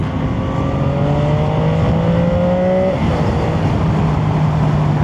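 The engine of a Chinese 675 three-cylinder motorcycle with a stock exhaust roars steadily and near, holding a smooth drone before a brief pitch shift, with no talk over it.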